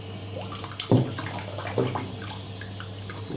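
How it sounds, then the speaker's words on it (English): Steady rushing of water pumping out of a 1980s Ariston by Colston 3000 spin dryer in a constant flow, with a few soft thumps and splashes, close by and moderately loud. "And now you're going to hear how quickly this will pump out."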